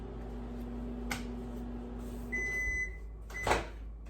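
A microwave oven hums steadily at close range, a low drone with a thin whine, followed by a couple of short beeps and a clunk as the door is opened at the end.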